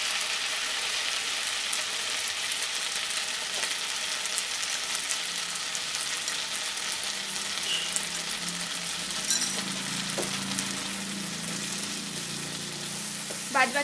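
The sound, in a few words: ginger paste and spice paste frying in melted butter for paneer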